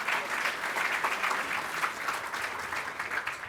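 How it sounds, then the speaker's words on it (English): An audience at a city State of the City address in Torrance claps in steady, moderately loud applause that lasts throughout, with no talking above it. "Give them a round of applause."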